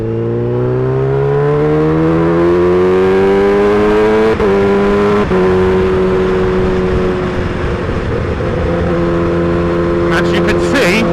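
A Kawasaki Ninja H2 motorcycle engine is loud and close while riding, its pitch climbing through the gears with brief shift breaks and then holding steady, with wind rush and a voice under it.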